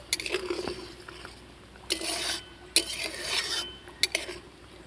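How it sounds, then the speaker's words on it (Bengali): A spoon stirs pea curry in a pan, with short scraping and clinking strokes in uneven bursts, some longer wet sweeps between them, close by and fairly quiet with no talking. "দিয়ে একটুখানি নাড়াচাড়া করে নেবো"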